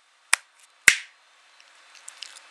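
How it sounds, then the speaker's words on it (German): Two crisp, close finger snaps about half a second apart, followed by quiet, scattered faint noises. "Ich schnippe jetzt mit dem Finger"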